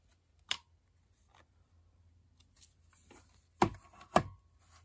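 Scissors snipping through scrap craft material for making tags and pockets, a few sharp close cuts with quiet pauses between them.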